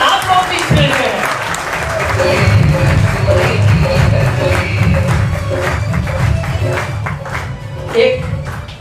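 Seminar audience in Ahmedabad bursting into sustained applause, dense clapping from a large crowd that swells and continues for several seconds, with a few louder thumps and a voice heard faintly over it.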